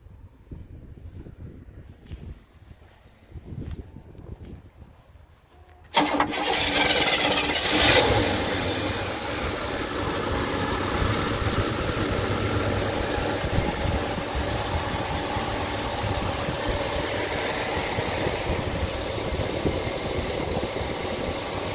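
A 1968 Cadillac Coupe DeVille with its 472 V8 fires up abruptly after quiet low rumbling, then settles into a steady, loud, even idle that carries on to the end.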